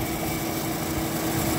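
An Emerson Quiet Kool window air conditioner runs, its compressor and fan giving a steady, loud mechanical hum and whoosh up close.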